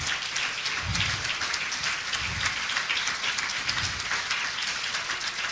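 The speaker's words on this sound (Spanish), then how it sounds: "Vamos a darle un aplauso a Cristo" Church congregation applauding together, a steady dense wash of many hands clapping that holds evenly for several seconds, with low murmurs of voices mixed underneath.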